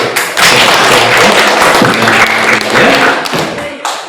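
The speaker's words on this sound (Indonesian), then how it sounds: "Oke, tepuk tangan dulu." Audience clapping during a religious talk, a thick burst of many hands that keeps going, with some voices and faint tonal sounds underneath.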